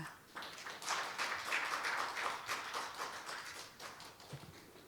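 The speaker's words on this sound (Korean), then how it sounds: "박수로 환영해 주시기 바랍니다" Scattered, fairly quiet applause rises at a 2021 robot industry conference opening ceremony as a committee chair is welcomed onstage, holding briefly and then tapering off.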